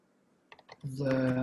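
Typing on a computer keyboard, a short burst of key clicks, then a voice talking over them.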